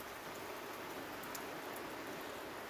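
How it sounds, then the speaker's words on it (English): Persistent rain falling steadily outdoors at night by a garden moth trap, a dense, even hiss of drops with no pauses or other sounds. "that drizzle has suddenly developed into quite persistent rain."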